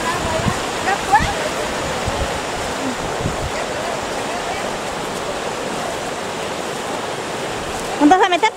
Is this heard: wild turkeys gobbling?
no